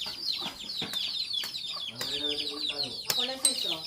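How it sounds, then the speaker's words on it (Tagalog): A pet chicken clucks in quick, repeated bursts close by, with several short sharp knocks and a person's voice speaking under the clucking. "There's a pet manok."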